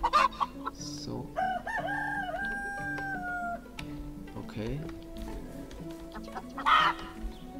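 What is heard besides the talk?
chickens clucking from the video game Medieval Dynasty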